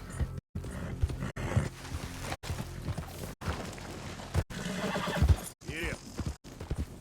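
A horse in the video game Red Dead Redemption whinnies and clip-clops at a gallop, loud and close, with rhythmic hoofbeats and game effects under voices talking.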